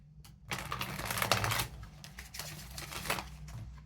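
Tarot cards shuffled by hand, a dense papery riffling and flicking that runs for several seconds, fairly close and steady over a low constant hum.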